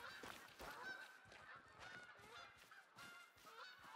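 Geese honk repeatedly while flying in The Hunter video game, giving a chorus of overlapping, rhythmic calls that are faint and somewhat distant, with no speech over them.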